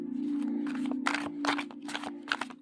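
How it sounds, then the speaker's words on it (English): Tarot deck of Llewellyn cards being shuffled by hand, close and soft, with several quick riffling bursts and short pauses between them, and no talk over it. "So let's see how it shuffles."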